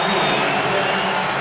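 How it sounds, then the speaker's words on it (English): A crowd at a basketball game, Memphis Grizzlies versus Toronto Raptors, applauding Vince Carter as he checks in, a dense, even wash of clapping and cheering held throughout the brief moment. "acknowledging the crowd, and a round of applause"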